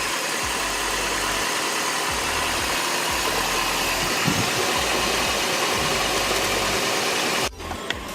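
A car engine idling steadily close by, a constant low rumble with light vibration that cuts off abruptly near the end.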